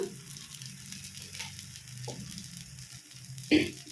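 Rice-flour challa attu dosa sizzling steadily in oil on a pan, a soft continuous crackle with a brief louder burst near the end, close and alone.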